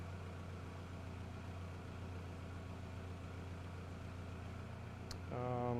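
Toyota engine idling with a steady low hum, faint and unchanging, then a brief high click and a slight rise in sound at the very end.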